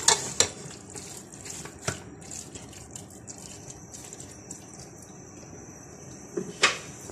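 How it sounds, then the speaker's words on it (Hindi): Minced meat keema frying with spices in a pan, a faint sizzle broken by sharp clinks and scrapes of a spoon stirring against the pan, especially at the start and end. "कीमे को थोड़ी देर तक मसाले के साथ भूनना है ताकि इसका जो ये इसकी गुलाबी पन है वो इसका ख़त्म हो जाए।"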